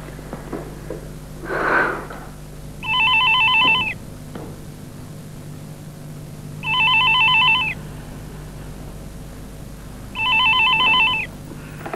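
An old-style telephone bell rings in three separate bursts, each about a second long with pauses between, loud and close over a quiet room.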